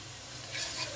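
Food being stirred and fried in a pan during home cooking, a steady close scraping sizzle that swells briefly louder midway, with no voices.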